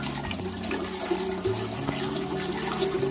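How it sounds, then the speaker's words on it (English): Root beer syrup pours into a homebrew keg with a loud, steady gurgling stream and rising pitch as the vessel fills, close up and uninterrupted. "Pouring the syrup in the keg."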